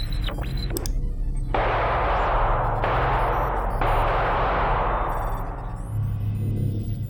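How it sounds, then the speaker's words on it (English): Gunfire in a filmed police standoff comes as a few sharp loud shots, each followed by a long, smeared, roaring decay over a low steady hum, with no speech. "Shots fired."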